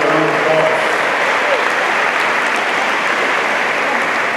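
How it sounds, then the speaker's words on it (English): Audience at a high school freshmen orientation closing ceremony breaking into loud, dense applause that carries on evenly, with a brief whoop or voice near the start. "let's give them a round of applause"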